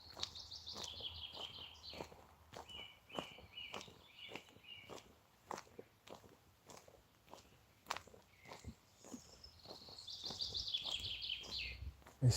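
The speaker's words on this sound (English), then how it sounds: "There's so many birds." Many birds chirping and singing outdoors, their calls faint and scattered across the scene, mixed with sharp nearby footsteps or taps and no talk.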